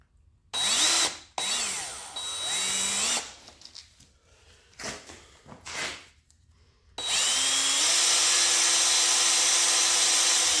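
Power drill boring a hole for a hinge fix on a Norcold 1200 RV fridge, close and loud, in short bursts with motor whine rising and falling, pauses between, then a long sustained run at the end.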